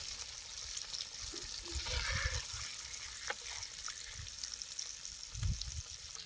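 Fish frying in a pan on a home stove, giving a steady hissing sizzle with soft bubbling and occasional louder spatters, fairly close and uninterrupted by talk.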